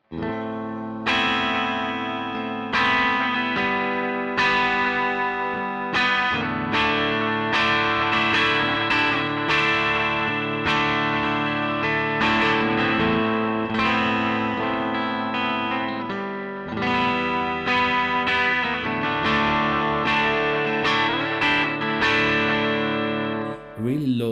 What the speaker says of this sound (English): I'm going to turn on a delay just on this side, the Vox side.